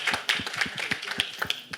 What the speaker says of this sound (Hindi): एक बार तालियां इस चीज के लिए.